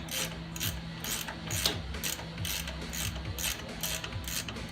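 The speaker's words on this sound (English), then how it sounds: "Just tighten up the bolts" A hand ratchet tightening bolts during a truck leveling kit install, clicking in a steady run of repeated strokes, close and fairly loud against a low background hum.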